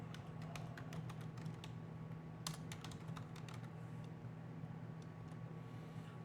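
A computer keyboard clicks in a rapid, irregular stream of close, fairly quiet keystrokes, with a short flurry in the middle, over a steady low hum from the room or a machine.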